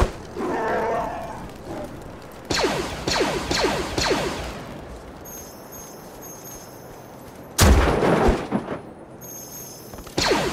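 Blaster gunfire in the Disney Infinity Star Wars Rise Against the Empire play-set: a few bursts of rapid zapping shots, then quieter stretches and a sudden loud impact near the end.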